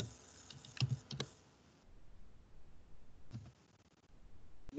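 Scattered keystrokes on a computer keyboard, light clicks in small clusters with quiet pauses between, close and fairly faint, no talking.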